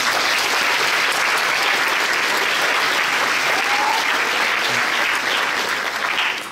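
Dense, sustained applause from a large audience at a regional science fair finale, a steady wash of many hands clapping close by that holds for several seconds and thins slightly at the end.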